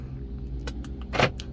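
Two quick mechanical clunks of BMW E90 door locks engaging by remote, the second louder, over a low steady rumble.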